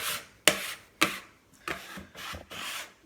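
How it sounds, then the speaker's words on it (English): Bench scraper scraping leftover pici pasta dough off a table, a series of short rough scraping strokes, the first two sharp and loud, the later ones softer and longer, close up with no talk. "Take my bench scraper, or dough scraper, whatever you're going to call that. Scrape away that extra crap stuck to the table."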